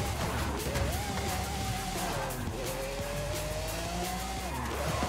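Drifting car in Forza Horizon 5 with a long, wavering tire squeal that rises and falls over steady engine roar, loud and continuous throughout.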